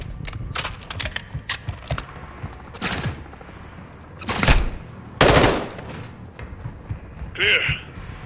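Rapid gunfire from a Call of Duty Modern Warfare 2 campaign mission rattles in short, loud bursts with a few heavy cracking shots, while game characters talk between volleys.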